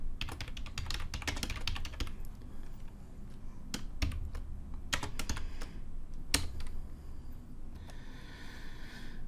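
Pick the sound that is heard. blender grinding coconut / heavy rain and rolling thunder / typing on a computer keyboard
typing on a computer keyboard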